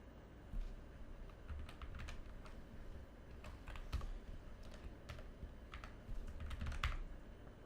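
Someone types on a computer keyboard while entering numbers into an Excel sheet, producing faint, scattered key clicks in short bursts over a steady low background hum.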